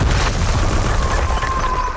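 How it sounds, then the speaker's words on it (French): Rocket explosion in a war film scene, a dense, loud rumbling boom with sustained debris-like roar filling the whole two seconds, a faint tonal whine running underneath. "L'explosion a provoqué un énorme éboulement."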